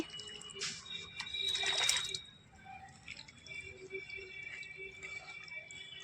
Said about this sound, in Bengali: এখন আমি এর মধ্যে খুব ভালো করে জল দিয়ে দিচ্ছি